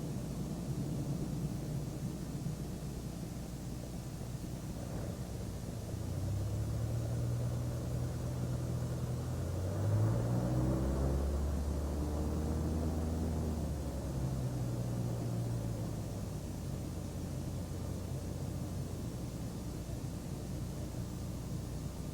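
A light aerobatic airplane taxiing on the ground after landing, its engine a low steady drone with a rising and falling hum through the middle, heard faintly inside the cockpit.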